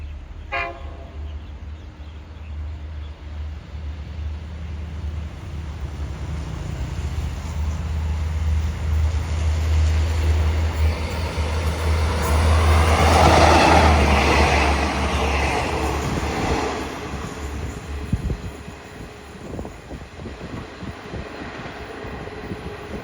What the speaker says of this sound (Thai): เข้าโค้งบ้านโป่งมาแล้วนะครับ สำหรับขบวนด่วนพิเศษที่ 44 นะครับ